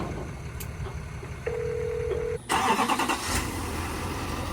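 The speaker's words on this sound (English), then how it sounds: "Ooh, that diesel sound." A Duramax diesel truck engine cranks and catches after a short electronic chime. A brief dip comes before a loud, rough, clattering start, then it settles into a steady idle close by.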